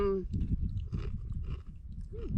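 Crispy curry-flavored beans are chewed up close outdoors on Turtle Head Peak near Red Rock, a steady run of crunchy bites opening with a brief hummed voice.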